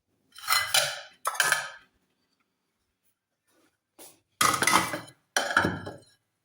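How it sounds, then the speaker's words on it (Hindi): Dishes, pots and pans are washed in a home kitchen, giving bursts of scraping, clattering metal and ceramic close up, separated by quiet pauses, with no talking. "अब ये दोबारा मैं धो रही हूँ ये बर्तन"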